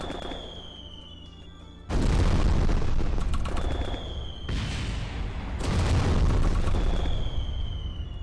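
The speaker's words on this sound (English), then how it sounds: "The fireworks ricochet off things." Fireworks rigged as a rapid-fire gun in Kerbal Space Program burst in loud, heavy blasts, two long roaring volleys of crackling booms separated by brief lulls, with a thin whine drifting over the top.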